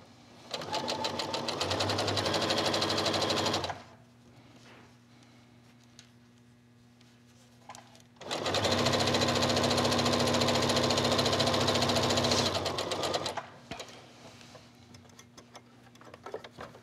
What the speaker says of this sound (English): when I stitch my tuck 1/4 inch from the edge